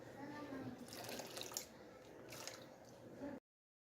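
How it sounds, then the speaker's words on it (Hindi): Water is poured little by little into half a cup of white vinegar, giving a soft, wet trickling and splashing in close, quiet bursts before stopping abruptly. "ये कुछ पानी शामिल करेंगे, थोड़ा थोड़ा करके तो शामिल करूँगी मैं।"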